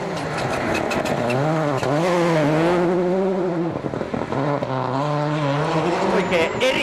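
A Ford Focus WRC rally car engine with a boiling, oil-spewing fault at the 2003 Wales Rally GB, revving and changing pitch through gear shifts, loud and close, with a brief dip midway.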